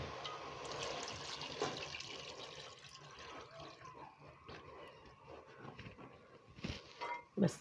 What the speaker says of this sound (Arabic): ماشي، هنزودها مية سخنة بقى.